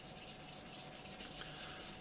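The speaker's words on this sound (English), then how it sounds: "actually what you can do is obviously just sand these down" Flory Models sanding pads rubbed against a scale model, giving a steady, soft abrasive scratching that continues evenly throughout with no voices.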